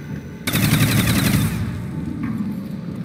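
A Browning machine gun fires in Call of Duty: World at War as a sudden, loud, rapid burst of automatic gunfire lasting about a second. It tails off into a decaying, echoing rumble.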